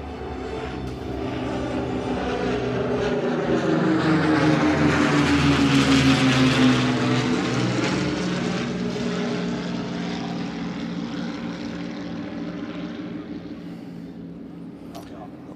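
A Free French Air Force propeller bomber passes overhead at an outdoor Allied camp event, its loud droning engine note swelling as it approaches and fading away over about fifteen seconds, with crowd voices and talk underneath.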